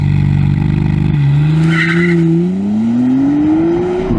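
A McLaren Artura performs a launch-control start, its engine loud and close, with a steady rising drone as the car accelerates hard through the gears without a break.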